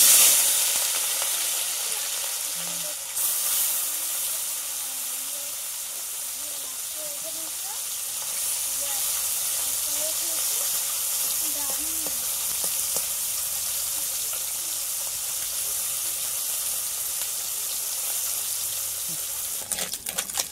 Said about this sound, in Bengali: মাছগুলো এপিট ওপিট উল্টে একটু লাল লাল করে ভালোভাবে ভেজে নেব